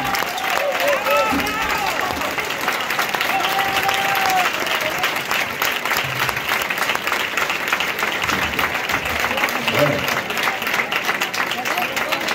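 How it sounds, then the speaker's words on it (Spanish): An audience applauds after a dulzaina performance at the San Roque 2022 dulzaina contest, steady dense clapping throughout, with voices and a presenter talking over it. "Jorge Rivas, un aplauso."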